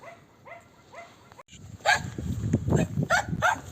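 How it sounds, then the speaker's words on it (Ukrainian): A dog barks repeatedly while guarding a big pile of firewood beside greenhouses on a rural property, sharp yaps spaced through the clip, close by and moderately loud under ongoing outdoor rustle and handling noise. "гавкає, бачите, дрова охороняє тут дрова"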